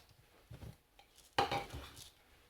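Seeds poured and shaken together in one container, a short rustling rattle with a brief sharper clatter in the middle, close and alone.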